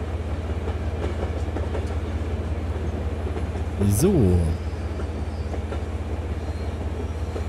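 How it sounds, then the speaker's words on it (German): A train in the Zompiercer video game rumbles along steadily, with a brief rising squeal of brakes partway through and someone talking over the constant rolling noise. "Ich würde gerne mal einen Zug sehen, der so schnell anhält."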